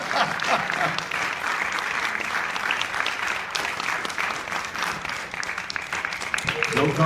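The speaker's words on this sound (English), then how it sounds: "Mr. Joe Carbone, nice round of applause" Audience applause at a guitar performance, a steady dense wash of clapping from a crowd lasting throughout, with faint voices mixed in.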